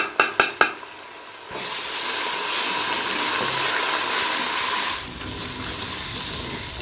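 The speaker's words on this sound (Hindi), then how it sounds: "ब्राउन हो गया तो मैं इसमें डालूंगी लहसुन अदरक का पेस्ट और मिर्ची" Garlic-ginger paste and chilies hit hot oil in a frying pan for a curry: a few sharp clinks of a utensil, then a loud, steady sizzle and hiss that dips briefly near the end.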